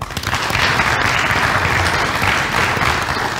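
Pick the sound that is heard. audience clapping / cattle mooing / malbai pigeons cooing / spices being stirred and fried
audience clapping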